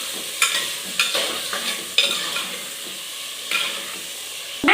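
Meat seasoned with rock salt fries in a pan while being stirred, a hissing sizzle broken by rhythmic scraping strokes about twice a second, close and loud.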